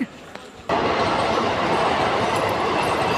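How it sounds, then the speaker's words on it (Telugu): A loud, steady rumble of a train arriving at Cherlapally railway station at night swells in abruptly after a quiet moment, a continuous rolling roar with faint voices beneath it. "ట్రైన్ వచ్చేసింది."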